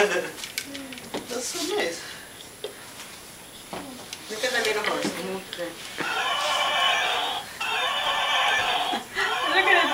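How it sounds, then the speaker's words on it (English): A little horse at a child's birthday party neighs in repeated, drawn-out whinnies, loud and close, mixed with people talking nearby. "Look at the little horse."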